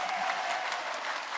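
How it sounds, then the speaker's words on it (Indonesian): A crowd at an Islamic talk breaks into applause, a brief, steady patter of many hands, faint and somewhat distant, without speech over it. "Tepuk tangan dong."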